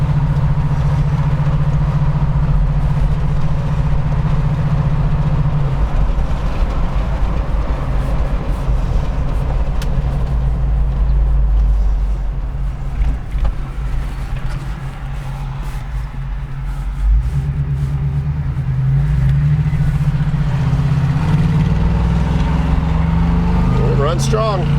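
A 1978 Chevrolet K5 Blazer Cheyenne 4x4 with a 400 four-barrel V8 and Turbo 400 transmission runs with a loud, steady low rumble, its pitch dipping briefly midway, as people talk over it.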